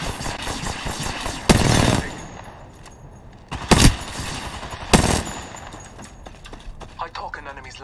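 Gunfire in the Apex Legends shooter game: several loud, sharp bursts of shots spaced a few seconds apart, close up, over steady game background noise.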